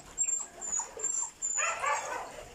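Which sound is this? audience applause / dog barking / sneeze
dog barking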